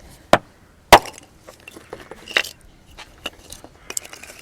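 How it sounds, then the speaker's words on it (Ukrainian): Sharp, sporadic wooden knocks and chops as wood is chopped with a hammer instead of an axe: a few loud blows followed by lighter taps and scraping, close by with no voices. "сокирки не взяв і рубає молотком"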